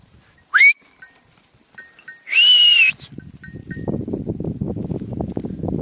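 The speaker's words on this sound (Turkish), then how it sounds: "ha bizim koyun koça geliyor" Sheep on a farm bleat as they come toward the ram, two loud calls in the first three seconds, followed by low rustling and movement noise.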